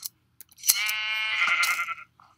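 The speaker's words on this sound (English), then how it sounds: "Sheep. Beautiful sheep. Ooh, brown sheep." A sheep in the Minecraft video game gives one long, wavering bleat with a buzzy, nasal tone, loud and close, preceded by a couple of short clicks and followed by a faint blip.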